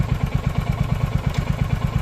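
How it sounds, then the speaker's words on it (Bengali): A Royal Enfield Hunter 350 in Moonshot White runs close by while downshifting through the gears, its engine giving a steady, rapid, thumping pulse with a low rumble and light mechanical clatter, with no talk. "আবার গিয়ার চেঞ্জ নামাচ্ছেন, ডাউন শিফটিং হচ্ছে গিয়ারে"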